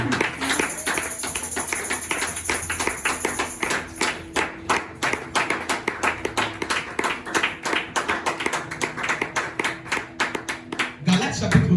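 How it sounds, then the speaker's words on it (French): Church congregation clapping in rhythm during a French-language sermon, steady rapid hand claps filling the room alongside voices and some background music. "Acclame Jésus si tu es d'accord avec cette parole."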